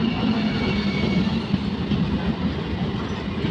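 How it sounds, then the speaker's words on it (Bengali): A train pulls into a station: a continuous dense rumble of rolling wheels and carriages, steady and fairly loud throughout, with faint clatter and no talking. "ট্রেন ঢুকছে।"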